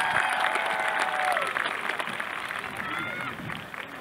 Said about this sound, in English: give another round of applause to the choir?